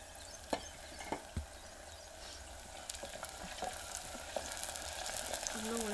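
Onions frying in a pan for a green chickpea curry: a soft, continuous sizzle with a few sharp clicks of stirring early on, fairly quiet and steady.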